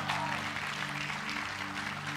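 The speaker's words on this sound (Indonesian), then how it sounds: "tepuk tangan buat mereka." A church congregation at a global prayer meeting applauds, a dense, even roar of clapping from a large crowd filling the hall, with a steady low hum underneath.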